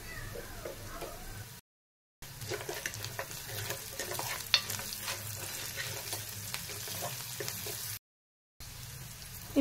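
Onions fry in a pan with green chillies while being stirred, a steady low sizzle with scraping and an occasional spoon tap, broken by two short gaps of silence.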